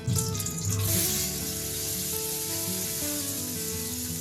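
Cashews and raisins drop into hot oil for a Bengali tomato chutney, with a loud, steady sizzle that flares at first and then settles into a continuous crackle, close and alone.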